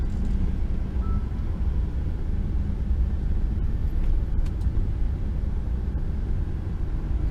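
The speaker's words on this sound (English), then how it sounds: "Cars everywhere." Steady low rumble of London traffic heard from inside an HGV truck cab, a constant engine drone with passing cars blending into a dense, unbroken bed of road noise; no speech.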